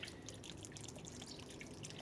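Water trickles and drips softly from a homemade fountain fed by a large tank in a sunny flower garden, a faint continuous patter of small droplets.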